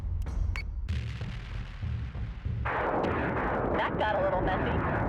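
Missiles launch in the space combat game Battlestar Galactica: Deadlock, with heavy booming blasts and rushing fire over a constant low rumble, loud and dense throughout.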